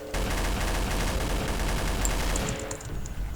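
A minigun in the Garry's Mod video game fires at zombies in a loud, continuous rapid burst of dense shots that tapers off near the end, with no talking.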